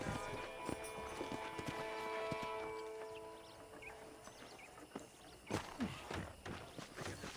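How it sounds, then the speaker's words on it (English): Steady hoof clip-clops of a horse walking in the video game Red Dead Redemption, rhythmic and fairly close, with a tonal musical backdrop and no talking. "let's see if you can still ride a horse"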